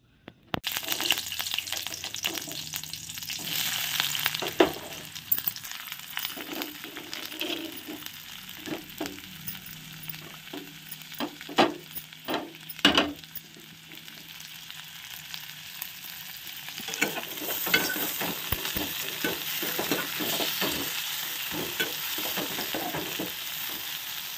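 Onion, carrot, peas, tomato and chilli fry in a pan with a steady close sizzle, broken up by scattered clinks and scrapes of a spoon stirring.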